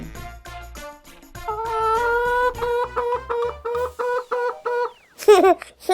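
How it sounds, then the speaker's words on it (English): Cartoon hen clucking in a children's farm animals cartoon, a run of rhythmic, tonal clucks, loud and close, ending with a few sharper squawks. "Hen."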